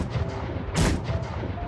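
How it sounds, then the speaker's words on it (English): A single deep, booming blast rises out of a low background rumble, a distant cannon shot in a video game. "3 cannon shots can be heard in the distance."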